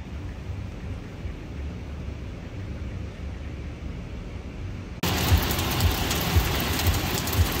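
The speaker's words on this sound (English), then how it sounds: "Why is it that I want to point you at the sky to show how much it's raining?" Heavy rain pours down in Playa Venao, Panama, a steady loud broadband wash that swells even louder and closer partway through, with no voices.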